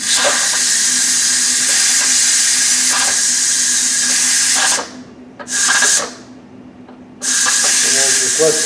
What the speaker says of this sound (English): So I'm gonna go ahead and let the steam out here